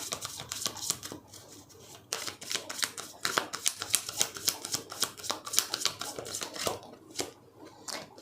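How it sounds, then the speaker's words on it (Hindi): Tarot cards riffle, snap and slide as a deck is shuffled and cards are drawn for a Hindi tarot reading, a quick run of crisp papery flicks and taps close by with no talk. "मैं यहाँ से कुछ कार्ड्स देखूँगी। 2 कार्ड्स लेंगे हम यहाँ से।"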